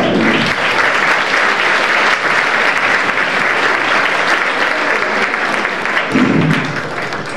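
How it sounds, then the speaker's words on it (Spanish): Steady, loud applause from an audience at a women's day festival in a comedy theatre, sustained and dense throughout without a break. "un fuerte aplauso para el espacio."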